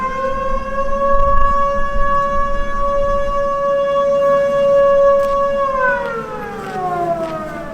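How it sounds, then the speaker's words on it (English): A loud wailing nightly 10 p.m. curfew siren in Churchill, Manitoba, holds a steady tone for several seconds, then slides downward as it winds down, over faint background noise. "Every night at precisely 10 p.m., a siren sounds."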